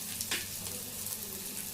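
Egg fry with coriander sizzles steadily in a hot pan as it is stirred, with a brief scrape of the utensil early on over the constant crackle of frying.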